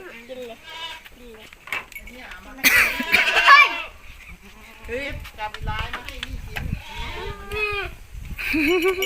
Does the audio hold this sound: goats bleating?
yes